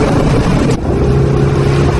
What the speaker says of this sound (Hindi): रास्ता गीला होने के कारण उस व्यापारी की गाड़ी कीचड़ में फंस जाती है।